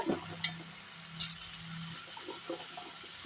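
Pumpkin pieces dropped into hot oil for pumpkin thokku, giving a steady soft sizzle and frying hiss with a few faint stirring clinks, no talk.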